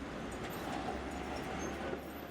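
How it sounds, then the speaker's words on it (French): Brussels STIB trams of the 7700 and 2000 series rumble past at a busy southern junction, with a steady wheel-on-rail roar and faint clatter filling the whole stretch. "C'est un important carrefour du sud du réseau avec un balai incessant de motrices 7700 et 2000."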